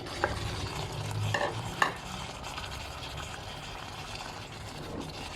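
Beef stir-fried with red curry paste in a pan, with a continuous close sizzle and a few sharp scraping stirs of a utensil against the pan early on.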